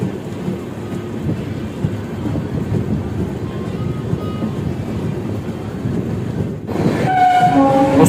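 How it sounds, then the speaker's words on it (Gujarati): The Namo Bharat Rapid Rail train 94801 from Ahmedabad to Bhuj passes on the line, a continuous rolling rumble that swells near the end, where a sustained horn-like tone sounds. "આપના સામે જે ક્રોસિંગ કરી રહી છે તે ટ્રેન કહેવાય છે ચોરાણું આઠસો એક અમદાવાદથી ચાલીને ભુજ સુધી જતી નમો ભારત રેપિડ રેલ છે"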